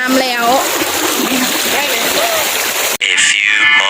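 Water flowing and splashing at a waterfall in hot sunny weather, a constant close rush of spray, with someone talking over it and a brief cut near the end.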